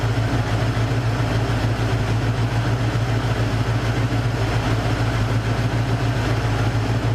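A Mercury Cougar engine idles steadily after its misfire was sorted out. The close, even, low rumble continues without a break and no one talks over it.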